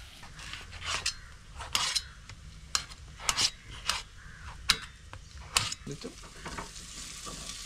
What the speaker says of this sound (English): the onion gets fried up very quickly